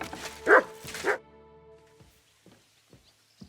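A dog in Kingdom Come: Deliverance II gives two loud, close barks in quick succession, then a few faint, scattered thumps and small noises in the quiet that follows.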